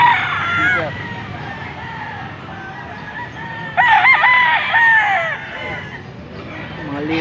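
Sweater-breed gamefowl roosters crow repeatedly at a busy gamefowl market in Pampanga, loud and close, with overlapping calls over a murmur of crowd noise and voices.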